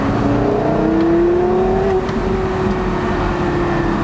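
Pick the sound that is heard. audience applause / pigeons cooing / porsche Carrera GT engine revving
porsche Carrera GT engine revving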